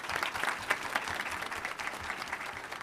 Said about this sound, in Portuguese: Uma salva de palmas para a nossa mesa.